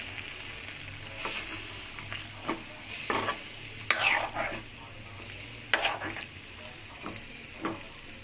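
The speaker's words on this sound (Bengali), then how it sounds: "এবার আমার ছাদ বাগানের বেগুনগুলো দিয়ে দিচ্ছি।" Eggplant from a rooftop garden goes into a pan of frying fish, giving a soft steady sizzle broken by several scraping, stirring strokes from a utensil at close range, with no voices.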